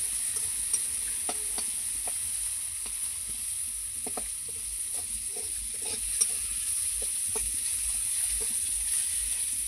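Onion and garlic frying in a home cooking pan, giving a soft, steady sizzle scattered with small crackles and pops over about ten seconds, with no one speaking.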